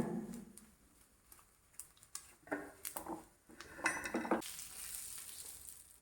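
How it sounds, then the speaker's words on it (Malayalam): Roasted coconut is stirred into a pot of koottu curry with a spoon, giving soft scraping and light clinks against the pot over a quiet sizzle, close up and with no talking. "കറിയിലേക്ക് തേങ്ങ ചേർത്ത് നന്നായി ഒന്ന് ഇളക്കി യോജിപ്പിച്ച് കൊടുക്കാം."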